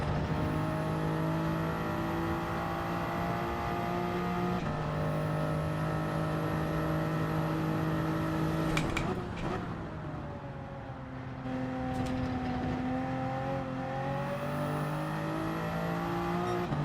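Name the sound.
race car accelerating, from a video game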